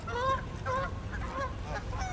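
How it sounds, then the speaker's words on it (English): Geese honk loudly in repeated harsh calls, several bursts spaced about half a second apart, close by over steady outdoor background noise. "Because of these fucking crazy ass geese."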